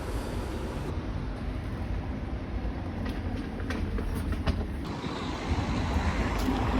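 A train at an Italian railway station on the way to Naples, a steady broad rumble and hiss throughout with faint clicks and squeals, moderately loud and continuous with no talking.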